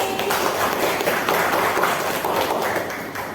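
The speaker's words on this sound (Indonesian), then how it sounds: "Tepuk tangan buat Dwi." Students in a classroom clap together in a burst of dense, loud applause that lasts a few seconds and then starts to thin out.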